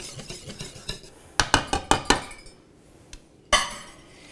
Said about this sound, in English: I'm just gonna give it a little simulated sifting in this bowl.